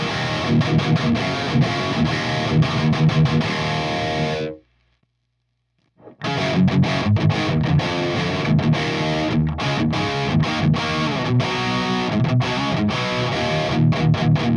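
An electric guitar through an amp's crunch channel plays loud, crunchy, mildly distorted chords and riffs, stops for a couple of seconds of silence, then continues strumming with steady rhythm.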